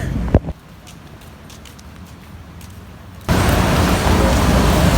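After a few quiet seconds, a loud, steady hiss of rain comes in abruptly and keeps going.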